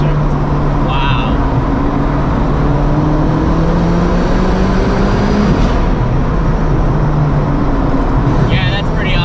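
A Zenvo supercar engine roaring at speed from inside the cabin, a loud steady drone with pitch sliding as it downshifts, continuous for several seconds.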